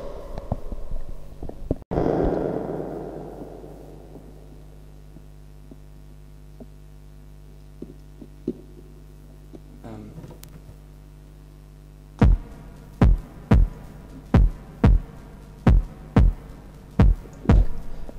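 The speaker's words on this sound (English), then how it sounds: "So this is once again just the bass drum." A synthesized bass drum from a drum synth, heard after a long stretch of low hum: about eight evenly spaced, punchy thumps arrive in a steady pulse, each clear and solo.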